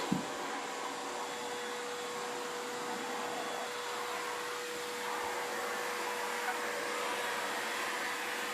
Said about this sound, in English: Can you change that vacuum attachment?